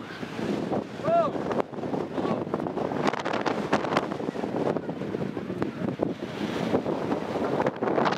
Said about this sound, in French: Mais il y a énormément de vent.